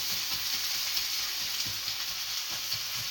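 Ground beef sizzling and frying in a hot pan for a Bolognese sauce, a steady close hiss with soft scraping stirs underneath and no talking.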